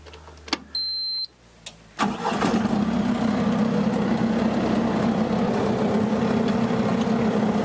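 A Bobcat's engine is started up close, with a couple of clicks and a short whine, then the engine catches and settles into a loud, steady idle.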